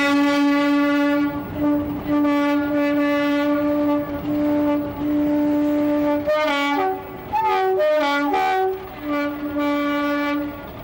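Class 50 diesel locomotive 50044 hauling a freight from Truro at Par junction in Cornwall, 1986, its horn blaring in long sustained loud tones, then several short varied blasts over the rumbling engine and wagons.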